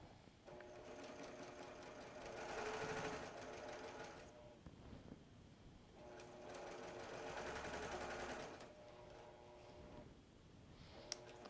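A sewing machine stitches down a quilt in two long runs of steady, rapid whirring and clatter, pausing briefly between them, close and fairly loud.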